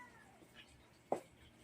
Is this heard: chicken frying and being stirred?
no